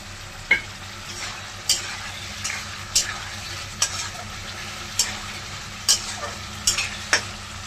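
Potatoes added to spiced oil and stirred in a pan for a vegetarian soybean curry: a low sizzle under regular scraping strokes, about ten distinct stirs spaced roughly a second apart, close and without speech.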